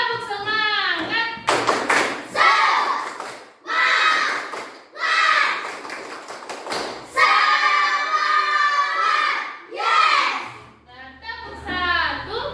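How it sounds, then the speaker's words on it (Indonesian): A classroom group doing a tepuk semangat cheer: bursts of rhythmic hand clapping alternate with children's voices chanting along, loud and close. "Sebelum lanjut kita tepuk semangat dulu, ya."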